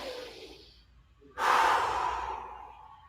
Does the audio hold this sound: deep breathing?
yes